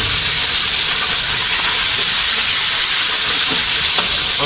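Loud, constant hissing sizzle of food frying in hot oil, close up and unbroken, with faint crackles popping through.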